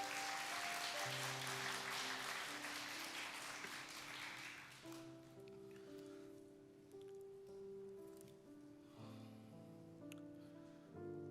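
Audience applause at a church early-morning special prayer service, welcoming a testimony speaker to the front; dense clapping fills the first five seconds, then tapers off while music continues underneath.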